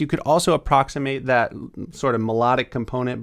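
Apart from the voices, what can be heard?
No distinct noise like a dog, phone or traffic.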